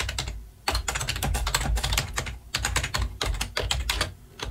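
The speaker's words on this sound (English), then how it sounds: "I'm going to go back to the start and actually type in" Computer keyboard typing into Notion notes, a steady run of close, crisp key clicks in quick bursts with short pauses, no voices.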